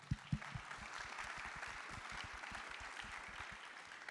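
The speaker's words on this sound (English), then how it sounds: "can we give our teachers in the room a round of applause?" A crowd at a state innovation competition finals applauds its teachers, a soft, fairly distant wash of clapping with a few sharper claps up front, held steady throughout.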